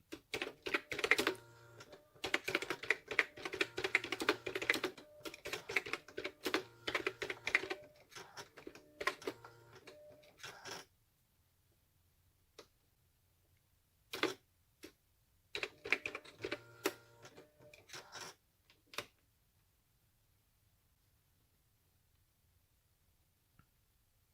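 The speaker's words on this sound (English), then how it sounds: "let's do some more typing, because I'm really liking the feel and the quietness of this typewriter" Typing on a Brother EP5 thermal typewriter: quiet, rapid bursts of soft key clicks and low whirring from the print mechanism, followed by pauses and shorter runs of keystrokes, heard close up with no talking.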